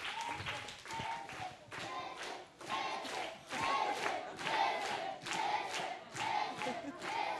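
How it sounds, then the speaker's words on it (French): An audience claps in uneven bursts at a French-language show, with cheering voices and shouts mixed into the clapping; several surges rise and fall in loudness across the stretch. "On peut les applaudir bien fort."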